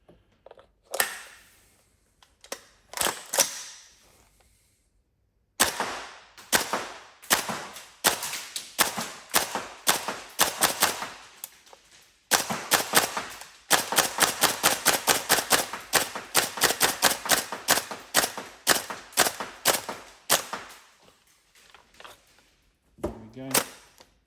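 A Tokyo Marui MK12 gas blowback airsoft rifle fires close by, first in a few scattered shots, then in fast, crisp bursts of sharp cracks with mechanical clacks, pausing between strings.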